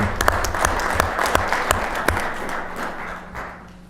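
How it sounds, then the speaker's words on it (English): A room full of people at a city council meeting applauding, dense steady clapping that gradually thins and fades toward the end. "So we should give them applause even though they're not here."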